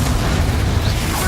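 A Confringo blasting curse explodes in Hogwarts Legacy, a brief, dense, loud burst with rumbling low end filling the whole short moment.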